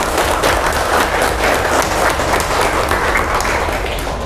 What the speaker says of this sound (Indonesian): Kita tepuk tangan dulu untuk kita.